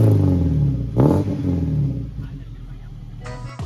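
Maruti Gypsy off-roader engine revving with its natural stock exhaust, a loud close rumble that rises in one blip before settling back to a deep idle.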